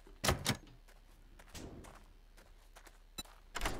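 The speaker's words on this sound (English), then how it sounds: "I still hear the door being hit" Zombies pound on a door in the survival game 7 Days to Die: two quick heavy thuds, then fainter scattered knocks and a final loud blow, muffled and some distance off.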